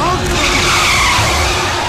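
Bus tires skid and squeal loudly and continuously for about two seconds, with engine and road noise underneath and no pause.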